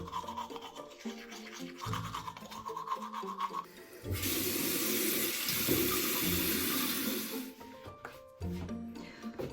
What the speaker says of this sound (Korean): 근데 양치만 하고 바로 나갈 겁니다